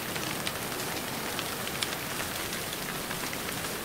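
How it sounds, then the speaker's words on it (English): Steady, dense rain patters on surfaces outside a shop during a video game's opening scene. The wash is even and continuous, with scattered brighter drops and no voices. "I'm just here because it's raining outside"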